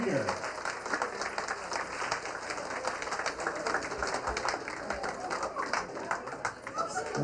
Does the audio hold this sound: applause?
yes